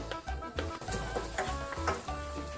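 Onions hit a hot, oiled pan and sizzle and crackle in uneven bursts, with music playing underneath.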